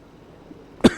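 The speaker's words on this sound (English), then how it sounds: "that tickle cough is absolutely killing me now" A single short cough bursts out near the end after near silence, close and fairly loud, from a person with a tickly throat.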